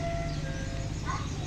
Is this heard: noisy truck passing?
yes